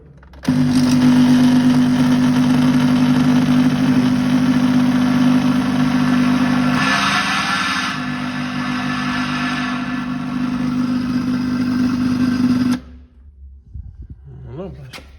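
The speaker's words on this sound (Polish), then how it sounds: "silnik chodzi" An old appliance motor runs with a steady, loud droning hum, shifting briefly in tone midway, then cuts off abruptly near the end.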